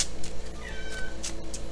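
A house cat meows a few times indoors, close and fairly clear, in short plaintive calls.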